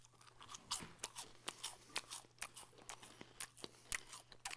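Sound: crunching Trix Loaded cereal

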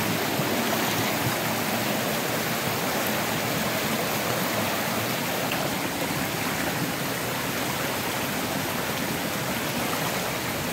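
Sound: flowing stream water at night

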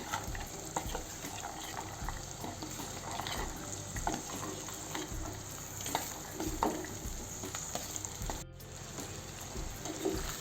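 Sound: ivy gourd (tondli) added and frying in a pan

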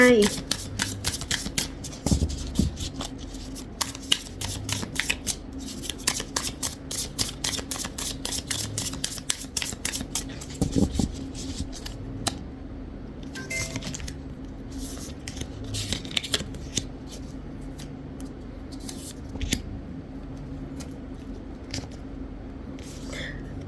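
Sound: shuffling and handling a deck of oracle cards

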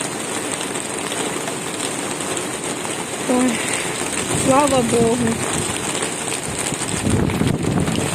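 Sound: rain falling

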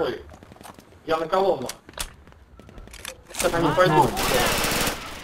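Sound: machine gun fire in the video game Red Orchestra

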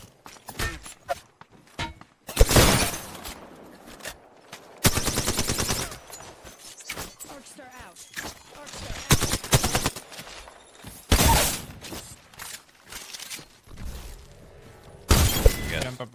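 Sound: gunfire in video game Apex Legends

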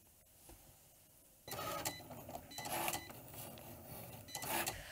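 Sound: Cricut cutting machine cutting tote bag design

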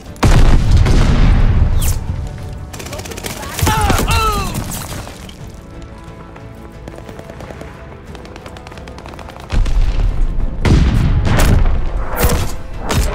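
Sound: grenade explosion in Call of Duty Vanguard video game

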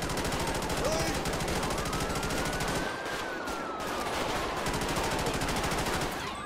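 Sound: gunfire in FiveM video game shootout

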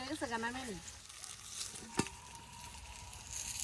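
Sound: fish frying in a pan

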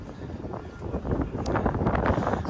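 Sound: wind blowing outdoors

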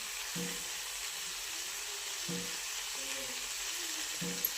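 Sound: stirring guar bean curry frying in a pan

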